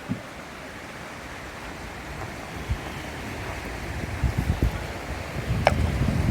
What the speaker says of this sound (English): Nice big creek here.